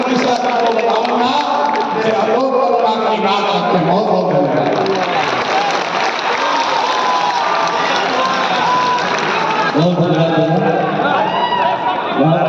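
A large audience claps and cheers in Bapu Sabhagar hall in Patna during a youth dialogue event, with loud, continuous applause and crowd noise under an amplified voice speaking over it.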